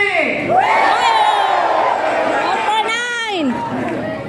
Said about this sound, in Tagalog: Hinihintay ko yung sigaw.